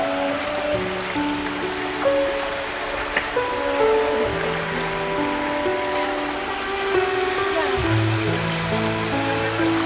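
Floodwater rushing and churning through a river in Langsa city, a steady loud broadband wash of waves and turbulence, continuous throughout with low rumbling beneath.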